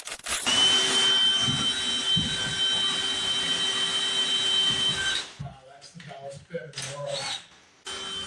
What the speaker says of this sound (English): Here I'm drilling a hole through from the inside, or a couple holes through